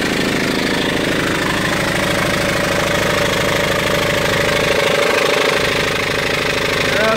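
Steam engine driving a dynamo at about 800 RPM, a continuous loud mechanical chugging with a steady rapid rhythm and a faint whine, running unbroken throughout.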